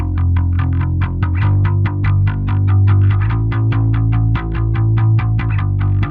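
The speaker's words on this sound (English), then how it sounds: "I just have a regular P bass that I played with a pick going into a distorted amp" Electric P bass picked in a steady, fast rhythm, each note attacking sharply through a gritty, distorted amp tone with sustained low end.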